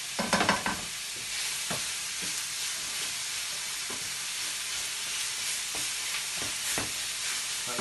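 A large packet of minced meat sizzles and fries steadily in a pan, with a constant crackling hiss and occasional scrapes of stirring, fairly close and with no talking.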